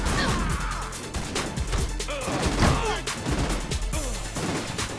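Dense, chaotic gunfire and crashing impacts in the video game Saints Row IV, a continuous loud barrage of shots and thuds layered with game music and effects, with someone talking over it.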